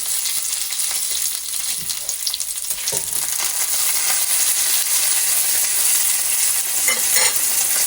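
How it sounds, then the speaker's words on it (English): Steady, loud sizzling and crackling of bacon frying in a hot pan, continuous throughout with occasional sharper pops and no talking. "we're going to flip the bacon. We're going to flip it. Sizzle,"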